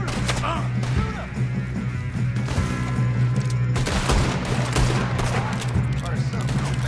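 Video game gunfire rattles in rapid bursts and sharp single shots, loud and close, with excited voices talking over the shooting.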